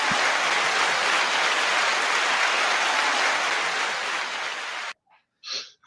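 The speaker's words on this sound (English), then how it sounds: "Nice applause." An audience claps as a guest is brought on stage, a steady wash of applause that cuts off abruptly, followed by a few brief quiet sounds, including a short breathy burst.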